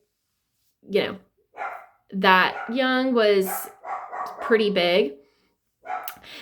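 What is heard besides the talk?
dog barking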